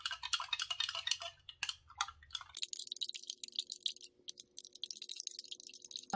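A niacinamide mixture is stirred in a container until it dissolves. Quiet, uneven clinks and scrapes of a utensil against the vessel come in quick bursts, then change to a lighter, steadier tapping.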